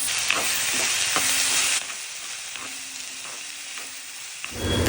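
Sliced onions and green chillies sautéing in a pan make a hissing sizzle with spatula taps, loud at first, then dropping to a quieter simmer with occasional scrapes before a final clatter.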